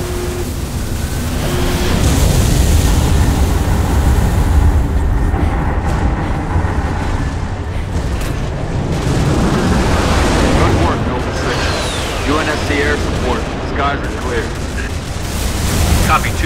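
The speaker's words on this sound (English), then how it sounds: "Lima 4, permission to commence bombing run" Air support bombing-run explosions in Halo: Reach, a loud, continuous rumbling roar of blasts and heavy engine noise that runs throughout with rising and falling layered effects.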